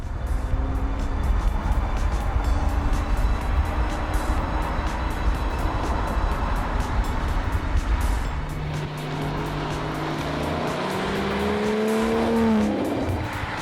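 An Aston Martin V12 Vanquish supercar drives with a steady loud engine note, then revs up in rising sweeps toward the end, close and alone with no talk.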